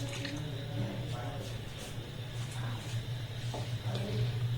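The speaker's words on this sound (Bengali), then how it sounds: "এই 2 কাপ দুধ আমি দিয়ে দিলাম।" Two cups of liquid milk poured into a kadai set over a gas flame: soft, wet squishing and dripping over a steady low background hum, moderately quiet and close.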